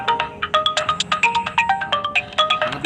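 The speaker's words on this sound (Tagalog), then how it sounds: "Oy, nanawag si Kuan." A mobile phone rings loud and close with an incoming call, playing a bright, rapid, repeating electronic melody of short tones that runs on steadily with no one talking.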